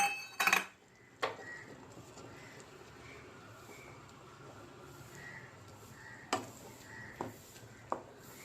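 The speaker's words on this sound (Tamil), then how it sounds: "ஓட்ஸ் போட்டு மிக்ஸ் பண்ணிக்கோங்க." Oats being stirred into sautéed vegetables in a pan for savory oatmeal upma, a few sharp metallic scrapes and clinks of a spoon against the pan, close, spaced out over a quiet background with no talk.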